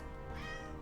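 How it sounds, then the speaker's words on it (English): A single short cat meow, close and clear, from a domestic cat in the remastered Gabriel Knight adventure game, with no talk over it. "You're a good cat."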